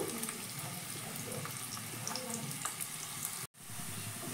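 Carrot pieces fry in white oil in a pan, making a soft, even hiss of sizzling that runs throughout with a brief dip near the end.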